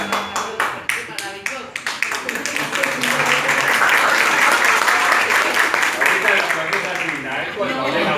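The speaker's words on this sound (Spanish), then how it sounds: "Hay que estar aplaudiendo porque es a nivel nacional." Audience applause at a book presentation for a small publishing house, starting as a few distinct claps and swelling into steady, loud clapping, with a little chuckling and speech mixed in.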